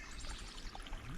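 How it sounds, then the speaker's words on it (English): Water poured over fruit and nut granola mixed with powdered milk for a trail meal on an Appalachian Trail hike. It makes a steady, close, splashy trickle that runs the whole short moment, with no talk. "A little powdered milk in there with the water."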